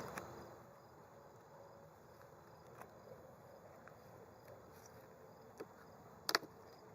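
Honeybees buzzing faintly around an open beehive as frames are worked in a garden, a soft steady hum with a few light knocks and clicks of handling.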